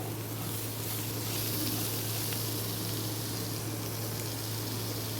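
Spice powders and ripe tomatoes sizzle steadily in hot oil in a pan, a dense, even frying hiss that stays loud and close throughout with no talking, while cooking a ladies finger sabji.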